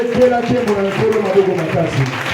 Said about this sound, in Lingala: Quelqu'un va acclamer très fort pour la gloire du Seigneur.